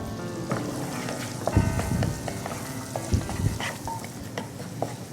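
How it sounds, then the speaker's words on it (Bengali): Chopped onion and garlic sizzling in oil in a pan, a steady crackling hiss broken by spatula scrapes and stirring knocks, close and clear. "আমার এই পেঁয়াজ আর রসুনটা লাল হয়ে এসছে"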